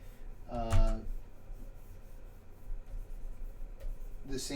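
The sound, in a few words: sketching with a stylus on a drawing layer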